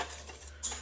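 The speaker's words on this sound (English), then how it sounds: "Stir it around." A whisk stirs dry ingredients for onion nuggets in a bowl, giving soft, quiet scraping and light clinks of metal against the dish, with a brighter tap near the end.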